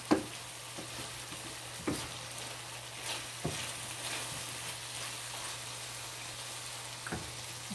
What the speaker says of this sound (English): I'm just gonna let it saute down a bit